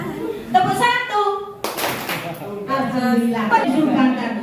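A school class performs a one-clap cheer, a single sharp collective clap ringing out between stretches of a teacher speaking.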